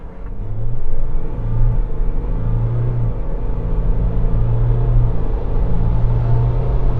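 A luxury pickup truck accelerates from a standing launch, heard from inside the cab as a loud, steady engine drone and road rumble that builds gradually, with no talking.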